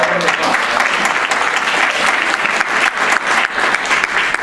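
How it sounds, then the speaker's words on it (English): An audience at a New Year motivational seminar applauds, a dense, loud, sustained clapping that fills the whole stretch without a break. "So let's give you guys a round of applause."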